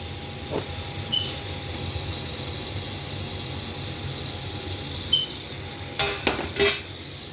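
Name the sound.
boiled carrots and potatoes added to beef stew pot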